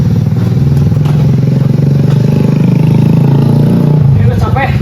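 A motorcycle engine runs loudly and steadily at close range, its chugging idle rattling throughout while a person talks over it.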